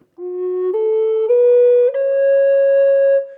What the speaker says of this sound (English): I'm going to come up to it with several lead-in notes